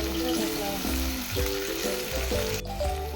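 Cluster beans and French beans fry in a pan with a steady, dense sizzle that runs the whole time beneath loud music.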